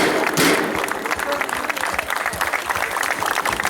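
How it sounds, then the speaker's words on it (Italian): A crowd at an outdoor town-square festival with an orchestra claps steadily, a dense, even wash of applause that stays fairly loud throughout. "vai, l'applauso!"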